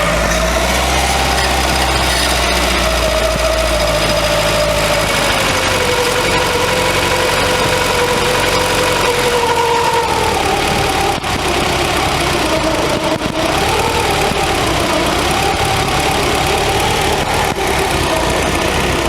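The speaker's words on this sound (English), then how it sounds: "set the idle speed as slow as I can get it and just leave it be for a minute" A barn-find Volkswagen Scirocco, just fitted with a rebuilt warm-up regulator, idles steadily at a low engine speed with an even, slightly uneven-edged rumble, heard close and alone throughout.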